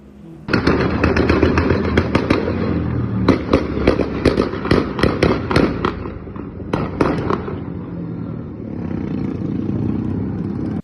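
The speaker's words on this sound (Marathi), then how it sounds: "बुलेटच्या फटाक्यांचा धाडधाड आवाज करत रस्त्यावरून धावणाऱ्या दुचाकीमुळे" Rapid loud bangs crackle in bursts like firecrackers as a Royal Enfield Bullet motorcycle exhaust backfires on a street in Pune, with a rumbling engine between the volleys.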